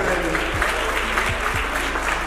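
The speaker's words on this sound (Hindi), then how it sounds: "जोर से ताली बजाकर प्रभु की स्तुति करें।" Congregation at a Christian wedding ceremony applauding loudly in praise, a dense continuous wash of clapping that holds steady throughout with a few low thumps beneath.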